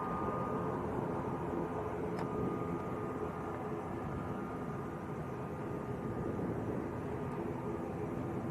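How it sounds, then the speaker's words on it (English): A Binter airliner taxiing at Lanzarote Arrecife airport produces a steady, distant broadband engine rumble and hiss that holds evenly throughout without changing. "We've got a Binter about to taxi out."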